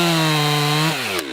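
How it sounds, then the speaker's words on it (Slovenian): Chainsaw cutting into a tree trunk while felling, a loud, close, steady engine drone whose pitch drops as the chain bites into the wood. "Tukaj zažagaš ob kraj, zaradi tega, da ko drevo pade, da nakažeš, kje se morajo utrgati vlakna"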